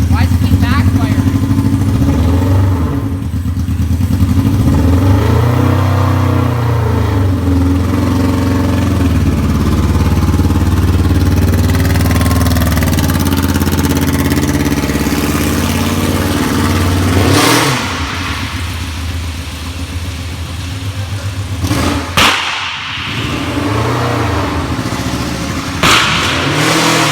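A car engine revs repeatedly and pops with sharp backfires, its loud rising and falling revs heard up close while people talk over it.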